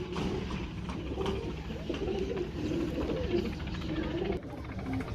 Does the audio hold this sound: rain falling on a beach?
no